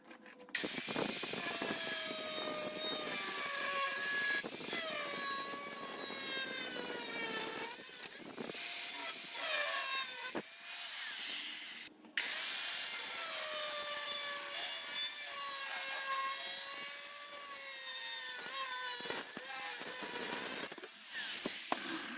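A 4.5 inch cutting wheel slices through metal sheet in two long passes split by a brief pause. The close, harsh screech keeps dropping in pitch as the wheel bites and loads.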